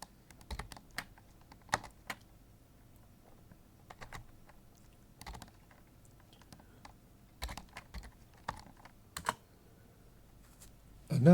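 Someone types a password on a computer keyboard during a Linux package update, the keystrokes coming in quiet irregular bursts of clicks with pauses between them, close to the microphone and with no talking.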